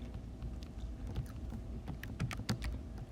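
Numbers are tapped in on a keyboard as a run of quick, faint clicks over a low background hum.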